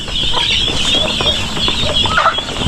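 Domestic ducks and other fowl calling on a farm, a loud dense chorus of overlapping quacks and clucks close by, with a voice briefly mixed in.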